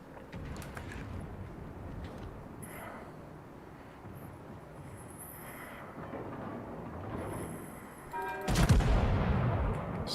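Naval gunfire from warships in World of Warships, a dense rumble of booming shots and distant impacts rolling continuously, with a heavier, louder blast near the end.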